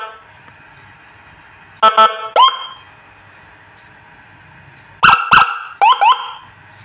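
Dual-tone horn loudspeaker (toa) driven by a repaired HHS SA5400 amplifier module, blaring loud, harsh honking tones in two bursts of several short blasts each, with quiet background hum between them.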